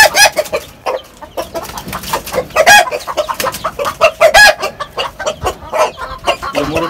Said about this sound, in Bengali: মোরগ কিরকম করতেছে।